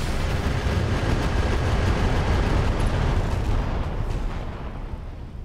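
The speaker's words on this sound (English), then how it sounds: "Couple tandem missiles for good luck." Tandem missiles and a daisy cutter strike fire in the mech combat game Roguetech, a loud, continuous barrage of rumbling blasts and booms that stays dense and steady throughout, with no talk.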